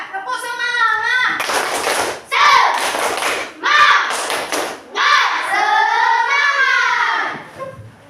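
Schoolchildren in a classroom doing a rhythmic spirit clap, sharp bursts of group clapping in a patterned beat, alternating with children's chanting voices loud and close.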